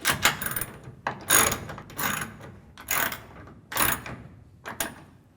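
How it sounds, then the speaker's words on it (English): A ratchet cranks down the cover rail clamps at the tailgate end of a truck bed cover, giving five or six short bursts of rapid clicking separated by brief pauses, close and fairly clear with no talk. "you can now tighten the rails down to the tailgate clamps only."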